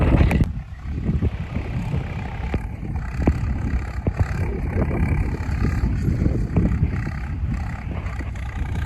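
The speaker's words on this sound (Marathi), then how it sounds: "आणि ट्रॅक्टर पण आलाय जवळ नांगरत बघू शकता." A tractor ploughs a farm field nearby, a continuous low engine drone with scattered clatter and some wind buffeting the microphone.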